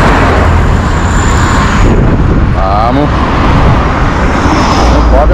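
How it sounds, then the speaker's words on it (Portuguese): A truck passes by outdoors near an overgrown roadside, its broad rumbling engine noise steady and loud throughout, with wind buffeting the microphone and a few brief voices nearby. "Olha o caminhão aí."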